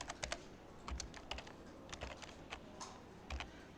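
Typing on a computer keyboard to enter a folder name, a quick run of separate key clicks in short uneven bursts, close and fairly quiet, with no talking.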